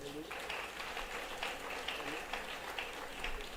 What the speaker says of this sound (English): help me applaud these wonderful students